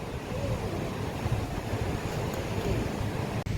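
Steady wind rushes across the microphone at the Veraval chowpatty seashore, a continuous low roar with faint surf underneath and no voices.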